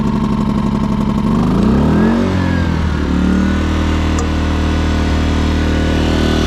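A small engine, started on choke at a campground to charge power, sputters and then rises through revs before settling into a loud, steady running drone, heard close up with no talking.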